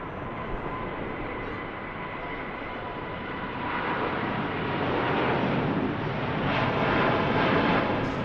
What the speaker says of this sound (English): Heading back to Singapore. Another Airbus A350.